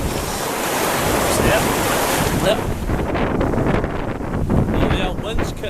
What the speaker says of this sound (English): The old wind's kicked up now.